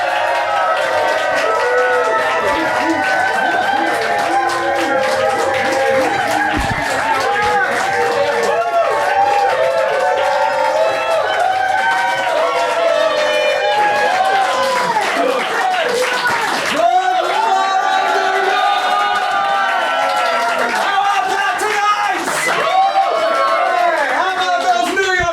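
Crowds cheer and clap nonstop for arriving heroes, a dense, loud wash of voices and applause lasting the whole stretch, with individual shouts standing out at moments.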